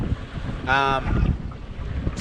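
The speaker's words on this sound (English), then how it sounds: "It is really windy at the moment." Strong wind roars and buffets steadily throughout, with a brief voice-like sound rising through the gusts midway.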